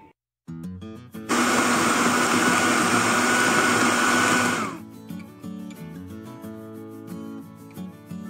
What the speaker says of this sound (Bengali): আমি খুব সুন্দর করে জারের মধ্যে ব্লেন্ড করে নিচ্ছি